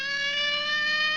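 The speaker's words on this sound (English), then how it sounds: "Dioxide turned on a siren" Cartoon police siren effect from a children's cartoon show, a brief steady electronic wail with bright, rich overtones, loud and alone.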